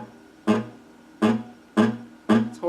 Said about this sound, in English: but if my nail is on the string,